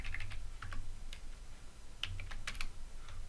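Someone types on a computer keyboard in short bursts of close, light key clicks with brief pauses between them, heard alone with no talking.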